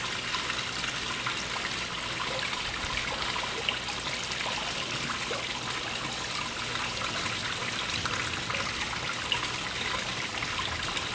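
Water rushes steadily out of the ballast tank of a 1/32 scale German Type VII radio-controlled model submarine as it vents, a continuous close hiss and trickle with no pauses and no voices.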